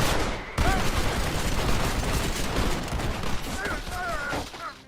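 A video game's final shootout: a dense, continuous barrage of gunfire from several weapons, loud and close, with bursts and sharp cracks layered over each other, and brief whistling ricochet-like tones near the end.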